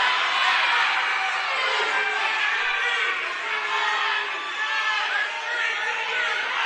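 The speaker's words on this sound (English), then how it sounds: "Eden Prairie cheering him on." Eden Prairie fans cheer and shout at a Lake Conference high school wrestling meet, a dense, steady roar of crowd voices with children's shouts mixed in, loud and sustained throughout.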